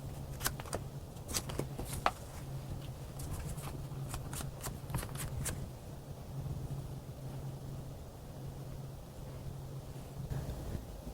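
Tarot cards being shuffled in quick bursts of crisp riffling and soft slaps during the first half, then easing off into a low steady room hum with occasional light card sounds.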